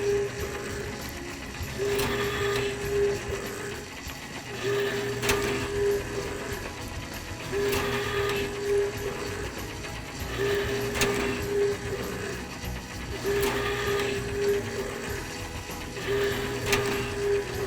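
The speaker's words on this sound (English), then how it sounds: "when the flippers go down, I'm going to turn on my hopper motor" Lil Orbits SS1200 donut machine running with its hopper motor on, a steady mechanical whir with a repeating cyclic clunk and rhythmic pulses every few seconds, continuous and fairly close throughout.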